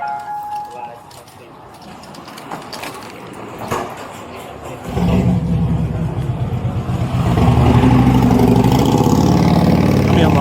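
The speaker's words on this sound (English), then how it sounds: "I had to talk loud because the motorcycle" A nearby motorcycle engine rumbles and revs up over the second half, growing louder and steadier after a quieter stretch of street noise during a police call, with people talking throughout.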